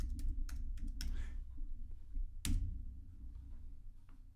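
Keys on a computer keyboard are tapped in short quick bursts with pauses between them, faint and close in a quiet room with no talk.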